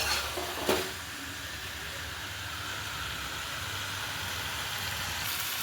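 Potatoes and spices hiss and sizzle steadily while sautéing in oil, with a brief clatter of stirring near the start and then a constant even frying sound and no talking.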